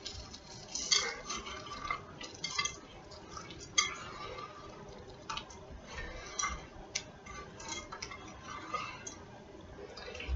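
Cookie dough mixture is stirred in a bowl for chocolate chip cookies, making soft, irregular scraping with light clinks and taps of a utensil against the bowl. The sound is faint and continuous.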